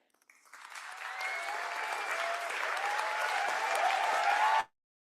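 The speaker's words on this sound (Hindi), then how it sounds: "एक बार दोस्तों फॉर ऑल द वेमेन जोरदार तालियां हो जाए।" A classroom audience applauds the women in the class, a dense, even wash of many hands clapping that builds quickly, holds steady for several seconds, then cuts off abruptly.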